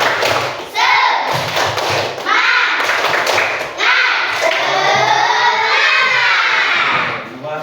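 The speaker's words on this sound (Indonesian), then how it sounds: "kita akan melaksanakan tepuk semangat terlebih dahulu supaya kita belajar menjadi semangat" A school class performs the spirit clap (tepuk semangat) together: rhythmic bursts of group clapping and thumps mixed with children's chanting and shouting, loud and close, running throughout.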